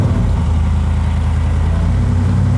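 A 1716 hp Coyote-powered 4WD Ford F-150 runs on a dyno, its engine a loud, steady low rumble that holds constant throughout with no talking.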